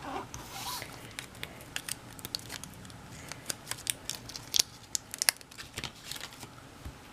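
Scissors snip through glitter paper while pieces are cut out for a handmade Christmas scene card, giving a series of short, crisp cuts and crinkles at close range with small gaps between them.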